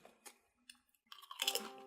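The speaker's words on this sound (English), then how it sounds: "these just have a pleasing, nice crunch." Pringles potato chips crunch in scattered bites, a few sharp crackles early on and then a denser burst of crunching near the end, all close to the microphone with no talking.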